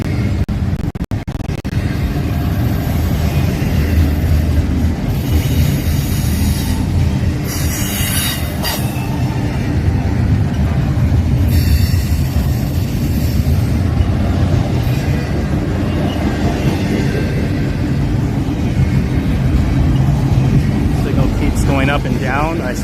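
A train rolls past at night in Stockbridge, Georgia, with a loud, steady rumble of wheels on rails and repeated high metallic squeals throughout.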